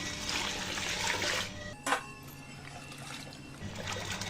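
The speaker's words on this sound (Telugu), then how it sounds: "ఇప్పుడు ఒక బగోనీలో ఈ అటుకులు వేసేసుకొని దీంట్లో మంచిగా వాటర్ పోసి నీట్గా కడుక్కోవాలి" Flattened rice (poha) rinsed in a vessel of water for upma, with steady sloshing and splashing at close range and a brief louder splash partway through.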